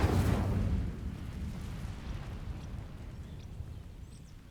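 A loud burst of fire from the Incendio spell in Hogwarts Legacy sets dry vines alight, with an initial whooshing blast that settles into a steady crackling roar and slowly fades.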